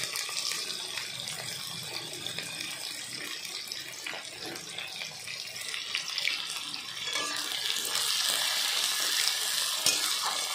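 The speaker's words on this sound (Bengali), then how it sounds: "5খানা মিডিয়াম সাইজের পেঁয়াজ কুচি করে রাখা হয়েছিল, যেটা এখন ভাজাতে যাবে।" Steady hissing sizzle of chopped onions frying in hot oil, growing a little louder toward the end, with no talking.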